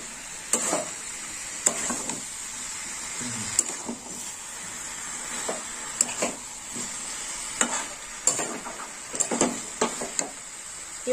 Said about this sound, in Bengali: এবার একটু কষে নেব